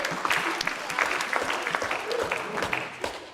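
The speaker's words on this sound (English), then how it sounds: "give me a round of applause" Applause from a church audience at a clean comedy show, a steady wash of many hands clapping that lasts throughout, with sharp individual claps popping out of it and faint voices in the background.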